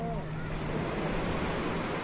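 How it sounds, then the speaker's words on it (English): Ocean surf rolls in against the shore beside Venice pier, a steady, full wash of breaking waves with some wind buffeting the microphone and no gaps in the roar. "Listening to the waves crashing against the shore"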